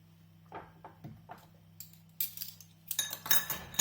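A spoon scrapes and clinks against a pot while Jamaican banana porridge seasoned with cinnamon and salt is stirred, starting as sparse separate taps and building into busier metallic scraping toward the end.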